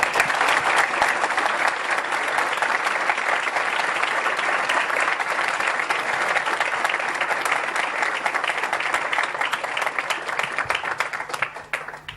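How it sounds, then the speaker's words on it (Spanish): Sustained applause from a packed audience at a conference in a hotel hall in Murcia, steady dense clapping for about twelve seconds before tapering off at the end. "os pido un fuerte aplauso para estos dos amigos"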